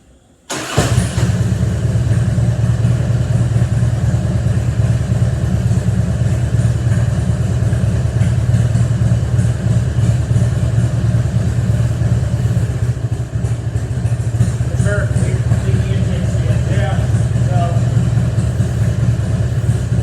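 A 2000 Harley-Davidson Road King FLHR V-twin with an intake leak at the front and rear cylinders fires up and settles into a steady, loud, close idle, with no talk over it.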